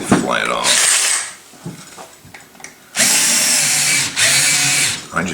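A Makita power tool grinding on a part of an OE Pharos hand grinder, loud high-pitched bursts of whining abrasion separated by brief pauses, with faint talk in the quieter gaps.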